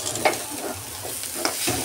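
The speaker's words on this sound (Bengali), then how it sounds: "এই যে আলু ভাজা হচ্ছে" Potatoes fry in a pan with a soft continuous sizzle, punctuated by a few scraping stirs of the spatula; no one speaks.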